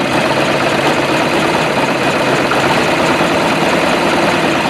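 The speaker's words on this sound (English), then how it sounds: "Need to set this idle up a little bit." A MerCruiser MCM 470 3.7L engine idles on a farm, producing a loud, close, continuous rough rumble with steady vibration and no talking.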